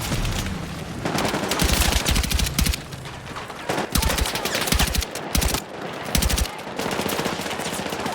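Gunfire in the video game Battlefield 6: loud, dense bursts of automatic weapon fire crackle in quick volleys, with short gaps between rattling strings of shots.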